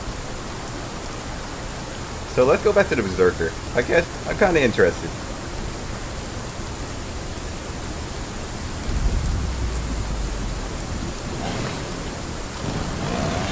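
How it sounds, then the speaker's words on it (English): Rain in the video game Skyforge, a steady hiss of falling rain running the whole time beneath a voice that talks over it at intervals, with a low rumble swelling in the middle. "Oh god, it's raining."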